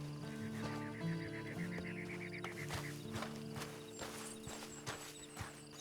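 Faint, rhythmic clip-clop of horse hooves in Red Dead Redemption 2 online, mixed with tonal background music and brief honking animal calls.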